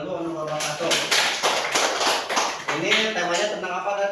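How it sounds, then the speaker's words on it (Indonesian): Classroom applause for a student group, a short burst of clapping in uneven pulses with a voice talking over it. "Beri tepuk tangan dulu untuk kelompok 1."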